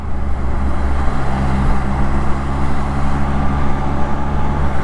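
Loud road noise from a rainy highway ride on a Can-Am Spyder, with a truck and cars rolling close alongside in a steady, heavy rumble and wash of tyre hiss.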